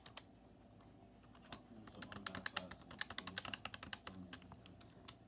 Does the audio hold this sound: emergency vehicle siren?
no